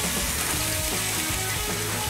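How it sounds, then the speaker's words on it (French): A cordon rouge fish fillet, peppered on one side, hitting a hot pan, producing a dense continuous sizzle and crackle that stays loud and steady throughout, close up with no talk. "notre poêle normalement est bien chaude. Donc on va lancer la cuisson"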